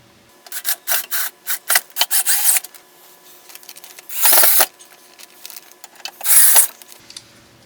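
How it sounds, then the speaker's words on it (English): Screws are driven into a router table dust collection box with a power driver, giving short bursts of whirring in quick succession, then two longer, louder runs, all close and with no talking. "I'm going to get a couple of screws in to get this held in place"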